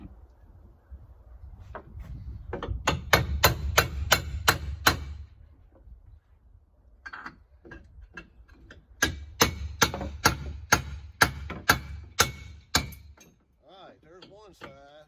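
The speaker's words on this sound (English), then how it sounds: "get a chisel and a hammer, right?" Hammer blows ring out on a steel chisel, driving it to free an electric motor bolted to a pallet through square tubing; two bursts of sharp, evenly spaced metallic strikes, close and loud, with a brief pause between runs.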